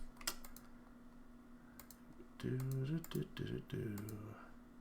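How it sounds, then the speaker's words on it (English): Light clicking of a computer keyboard being typed on, sparse keystrokes mixed in with a person talking over a steady background hum. "I'm actually typing that up now"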